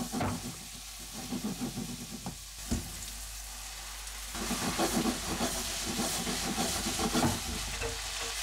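Cooked spaghetti and chopped parsley tossed into a hot pan with zucchini, loud frying sizzle and hiss with stirring scrapes, rising in intensity about halfway through, no voices.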